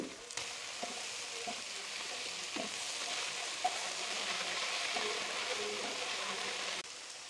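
Chicken, cauliflower and broccoli sautéing in a pan give a loud, steady sizzle and hiss like rain, with occasional soft knocks of stirring, close up and without talk.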